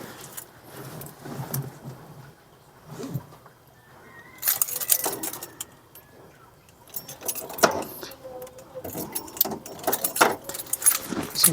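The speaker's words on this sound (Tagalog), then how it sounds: "Ito yung susi papunta sa battery." Keys for a Bajaj Maxima Z tuk tuk jangle and clink close by in repeated bursts during a battery and fan installation, with soft handling noises and quiet background sounds between them.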